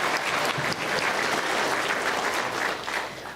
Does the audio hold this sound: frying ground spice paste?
no